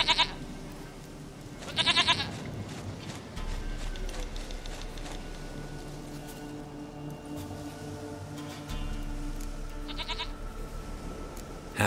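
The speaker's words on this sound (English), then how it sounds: "Goat of mine, dearest, sweetest goat." A goat bleats in The Witcher 3 in a few short, nasal cries, near the start, around two seconds and again near ten seconds, over a steady game ambience with low music.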